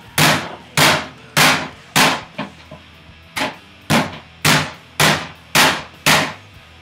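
Steaks are pounded to tenderize them: about eleven sharp, close thuds land in a fairly even rhythm, each one punchy and distinct, with no talking.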